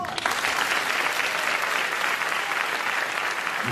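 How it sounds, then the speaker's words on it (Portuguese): A congregation at a São Paulo church vigil applauds Daniel Vasconcelos, steady sustained clapping from a large crowd, fairly loud and continuous throughout with no voices over it. "Vamos aplaudir o Daniel."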